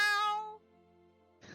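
A single cat meows close by, a clear rising-then-falling cry that fades into near silence before a brief rustle at the end.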